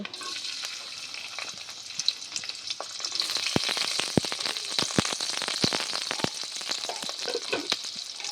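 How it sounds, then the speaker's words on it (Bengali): Chopped onion sizzles in hot oil in a wok, a steady frying hiss with sharp crackles and pops that grows busier as it goes on. "তেল গরম হয়ে গেছে, এবার আমি কেটে রাখা পেঁয়াজ কুচি দিয়ে দেব।"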